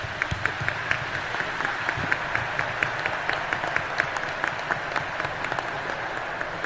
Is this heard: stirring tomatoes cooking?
no